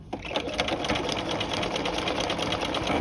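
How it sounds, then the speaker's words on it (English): A sewing machine stitches off the corner of a V yoke, a loud, steady mechanical whir with a fast, even stitching pulse running throughout without pause. "sew off the corner like so."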